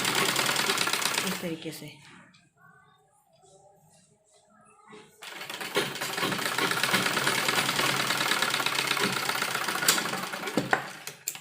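Sewing machine stitching a folded dupatta with a cord tucked in, a loud fast mechanical whir that runs, stops for a pause with brief speech, then runs steadily again.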